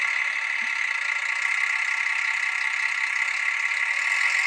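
A Roco TT Br 650 model railcar's DCC sound decoder plays a steady, loud diesel engine drone that holds at one pitch throughout, with no clear rise in revs.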